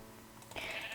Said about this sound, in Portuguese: Matando essa ovelha.